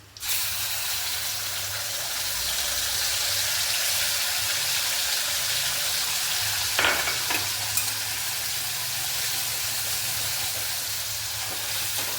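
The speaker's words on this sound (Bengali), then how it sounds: "এবার সর্ষে বাটাটা দিচ্ছি।" Mustard paste sizzling and frying in hot oil after a black cumin tempering, a steady close hiss and crackle throughout with a brief sharper spatter burst partway, no voices.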